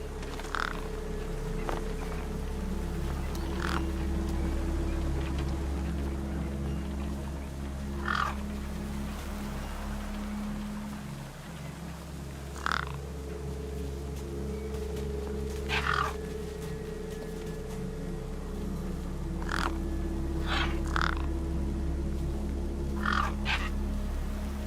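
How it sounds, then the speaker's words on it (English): Birds caw harshly in Beyond a Steel Sky, giving repeated separate calls spaced irregularly over a low, steady game ambience hum. "Damn birds!"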